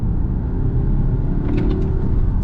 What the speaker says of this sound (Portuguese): pé no fundo no modo híbrido, ó. Olha o quanto ele acelera